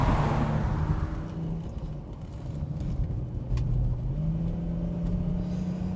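A Jaguar XJS in sport mode revs and accelerates through tight corners, its engine a loud, steady low rumble with rising and falling pitch, close up and with no talking.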